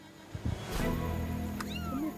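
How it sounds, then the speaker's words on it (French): A kitten meows several times from the water near a boat, with high, thin, rising cries over a low rumbling background. "Un chaton."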